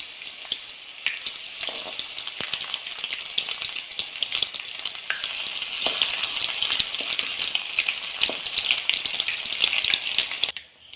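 Breaded popcorn chicken frying in oil over a low flame, giving a steady, close crackle and sizzle with scattered pops that runs for the whole stretch without any talk.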